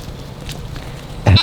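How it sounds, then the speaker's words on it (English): Baby goats on a farm giving a short, close bleat at the end after a quiet stretch of faint background noise. "Baby goats. How cute is baby goats?"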